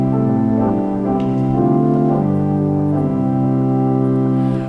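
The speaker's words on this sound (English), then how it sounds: "the front row of pipes is a principal stop that sounds like this." Principal stop on a pipe organ, the front row of pipes, sustaining a steady full chord of held tones for several seconds with slowly shifting pitches, loud and alone.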